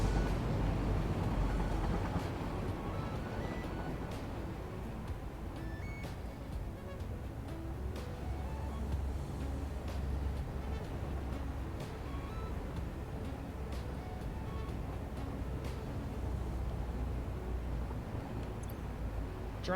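A train passing in the video game Satisfactory, a steady loud rolling rumble with rhythmic rail clatter and faint tonal beeps, continuous throughout.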